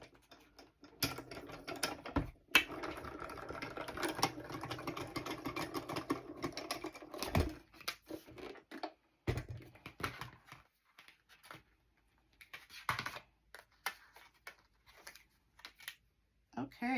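A die-cutting machine feeds a cut-in folder with a die through its rollers, giving a steady mechanical grinding and clicking that runs for several seconds, then gives way to intermittent handling noises and some quiet talk.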